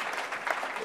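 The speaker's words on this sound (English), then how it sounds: "Give a round of applause." Audience applause for a conference panel, a dense, steady wash of clapping heard alone for under a second.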